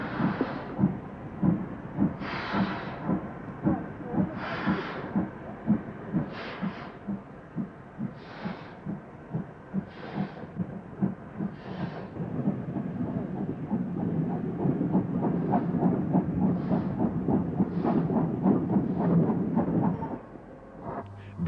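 Stanier Black 5 steam locomotive 45107, built by Vulcan Foundry, hauls a Blackpool train with a rhythmic chuffing exhaust, heavy regular beats growing into a continuous rolling rumble before fading at the end.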